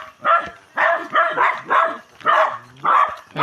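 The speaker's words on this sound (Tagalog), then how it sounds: "May aso na naman guys kagabi." A dog barks repeatedly in a steady series of sharp barks, fairly close, with a short whine in the middle.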